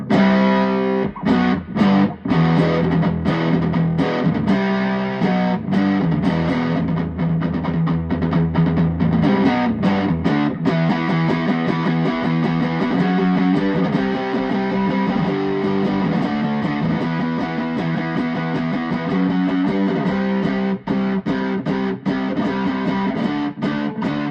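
Electric guitar, an EVH Wolfgang Special through its single-coil neck pickup, played with a distorted tone, chords and riffs ringing out loudly with sharp picked attacks, no voices.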